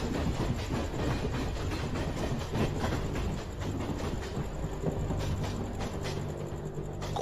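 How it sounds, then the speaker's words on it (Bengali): Audiobook sound effect of a train roaring past: a dense, steady rumble with a faint rhythmic rattle of carriages that holds close and loud all the way through, with no voices. "আর সঙ্গে সঙ্গে সামনে দিয়ে রেলগাড়িটাও গর্জন করতে করতে বেরিয়ে গেছে।"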